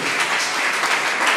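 A church congregation applauds in a sustained, dense burst of clapping that fills the room throughout.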